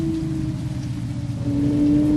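Video game rain: a steady hiss with a low rumbling undertone and a faint tonal hum, continuous and fairly loud, no voices.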